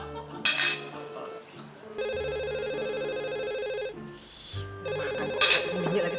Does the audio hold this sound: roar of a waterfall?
no